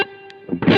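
Electric guitar through a Vertex Ultraphonics HRM overdrive pedal sustains a distorted note that fades, then a fresh loud strummed chord cuts in, brief and close.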